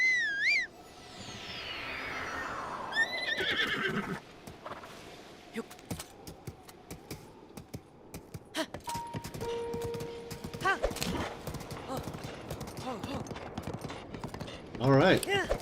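A horse in the Zelda Breath of the Wild video game (Master Mode) whinnies, then hooves clip-clop in quick rhythmic beats alongside game sound effects and music, with someone talking over it.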